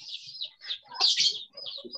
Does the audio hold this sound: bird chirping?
yes